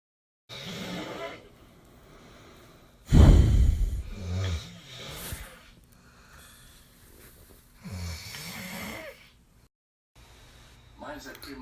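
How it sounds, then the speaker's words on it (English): A sleeping person snores in several separate bursts of rough, rasping breath with quiet gaps between them. One snore stands out louder than the others. "Usually your snoring is louder."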